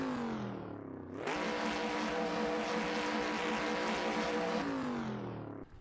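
A racing car engine in the racing game Assetto Corsa idles, then roars up to a sustained high rev for several seconds before easing back down, loud and close with no talking.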